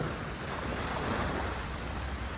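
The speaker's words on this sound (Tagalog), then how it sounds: "ang sarap pakinggan ng tubig ng dagat" Sea waves wash steadily onto the shore in a broad, continuous rushing hiss, with some wind buffeting the microphone and no voices.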